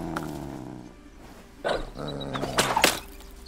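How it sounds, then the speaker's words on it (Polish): A dog growls and snarls in the video game A Plague Tale: Innocence, low rumbling growls with a few sharp, louder bursts near the end, fairly close with no talk. "Się szybko wkurzył pies na nas."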